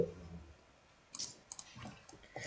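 A few sharp, quiet computer keyboard clicks, scattered irregularly over a couple of seconds against a faint background hum, with no talking.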